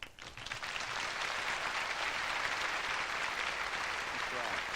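A concert audience at a 1993 gospel quartet performance breaks into sustained applause, broad and steady after a brief start, with some voices mixed into the clapping.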